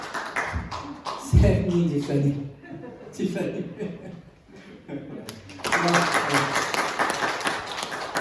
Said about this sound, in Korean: 환영 박수 한번